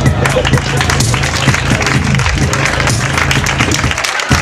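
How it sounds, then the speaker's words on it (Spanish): An audience breaks into applause at a live stage show, a dense wash of clapping and crowd noise that lasts the whole stretch and has voices mixed in. "un aplauso para la arcipreste del Nilo"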